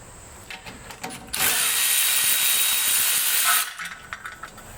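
A power ratchet spins out the dust shield bolt on a 2015 Jeep Cherokee KL during rear half shaft work, a loud, continuous whir lasting about two seconds, bracketed by quieter clicks and handling noises.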